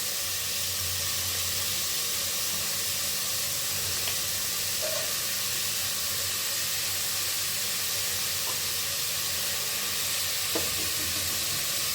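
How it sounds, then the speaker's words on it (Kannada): Capsicum and carrot fry for egg rice, giving a constant close hiss and sizzle of oil with a few faint clicks of stirring, no voices present. "ಸ್ವಲ್ಪ ಚೆನ್ನಾಗಿ ಫ್ರೈ ಮಾಡ್ಕೊಳ್ಳೋಣ"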